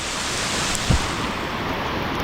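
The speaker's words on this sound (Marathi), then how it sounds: "पावसाने परत एकदा हजेरी लावले जोराचा पाऊस आला आहे" Heavy rain falls hard on a monsoon fishing trip in Konkan, a loud continuous hiss with one soft dull knock partway through.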